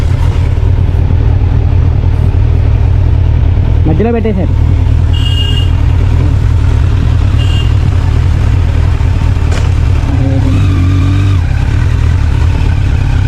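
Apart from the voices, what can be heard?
Kawasaki Z900 motorcycle engine after cold start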